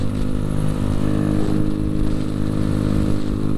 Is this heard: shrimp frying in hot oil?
no